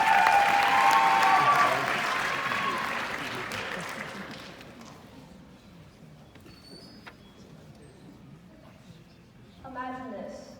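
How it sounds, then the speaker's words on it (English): Audience at a speech contest applauds a student contestant, loud clapping at the start that gradually fades over several seconds, giving way to quieter room sound, with a voice and brief tonal sound near the end. "Let's give Emma a big round of applause."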